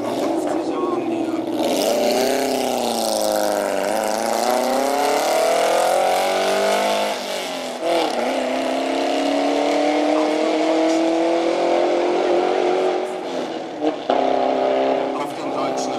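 A historic race car from German circuits of around 50 to 60 years ago revs loudly at a Brandenburg motorsport meet, its engine note rising and falling through long sweeps, close and steady for most of the stretch.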